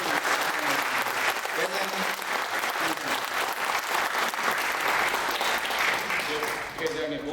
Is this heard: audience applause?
yes